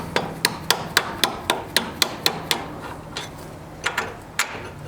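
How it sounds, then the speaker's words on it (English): A hammer strikes a small punch to drive a bolt out of the front lower control arm bushing on a 2009-2015 Audi A4 B8, giving about a dozen sharp, close metallic taps in a steady rhythm, then a few softer, spaced blows. "So just get a little punch there, and then give a little tap."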